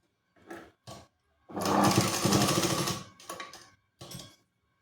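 Sewing machine stitching a folded strip for a katori blouse: short stuttering bursts, then a sustained close whirring run of about a second and a half, followed by more brief start-stop bursts.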